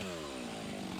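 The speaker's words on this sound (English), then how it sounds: "chainsaw in this job with a 20 inches long bar" A Stihl MS400 chainsaw with a 20-inch bar cuts into a rotten aspen during urban tree removal, a loud, steady close-up engine roar with shifting pitch as the chain bites through the wood.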